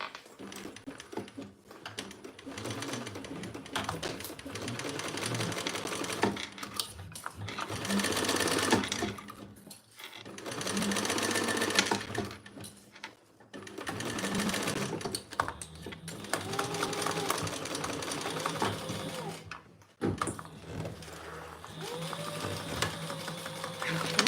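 A sewing machine stitching lining onto a fabric panel, running in several bursts of rapid mechanical whirring separated by short pauses, while people talk over it.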